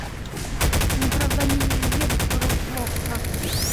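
Rapid automatic gunfire in Garry's Mod rattles in a fast, even stream for about two seconds over a steady game soundtrack, followed by a whooshing effect.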